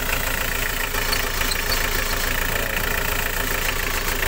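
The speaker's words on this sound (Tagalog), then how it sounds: "Lalo na kung isagad nyo sa pag-ikot, mayroong tumunog. May problema yan sa steering." A car engine idles with a faulty power steering pump, a constant dense whine and hum over the running motor, steady and close with no pauses.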